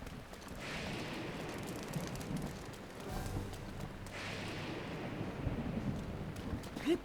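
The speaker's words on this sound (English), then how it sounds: "Very much raining." A steady rainfall in Zelda: Breath of the Wild hisses softly and evenly, with faint low thunder rolling in the background, quiet and with no talking.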